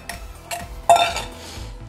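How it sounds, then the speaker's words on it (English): Chopped onions drop into a pan of hot olive and avocado oil for a butter chicken curry, one sharp clatter and a thump near the middle, then quiet kitchen rattle. "we're gonna get these onions in here"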